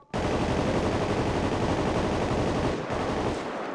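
Rapid, sustained gunfire in a GTA roleplay game, a loud continuous volley of shots that starts abruptly and runs steadily, with no talk over it.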